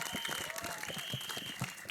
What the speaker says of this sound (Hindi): अब्बास मस्तान साहब के लिए जोरदार तालियां